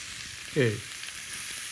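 Garlic and ginger sautéing in oil for a saag aloo, a soft steady sizzle running throughout, with a brief word spoken over it.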